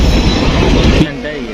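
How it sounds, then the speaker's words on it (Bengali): The Capital Express rolls toward Kishanganj station, and a loud, continuous rumble fills the passenger coach, with heavy wheel and carriage noise that eases slightly near the end. "এই হচ্ছে ট্রেনের পরিবেশ।"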